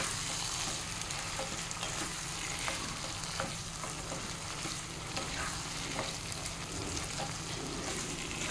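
Steady frying sizzle in a pan while turmeric is stirred into a prawn biryani masala, with regular spoon scrapes over the continuous hiss, close and even throughout, no talking.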